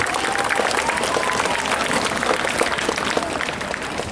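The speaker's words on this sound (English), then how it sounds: "let's give Benson Car Mart a big round of applause" A crowd at a school book float parade claps steadily, with dense, loud applause holding at an even level from start to finish and a faint murmur of voices mixed in.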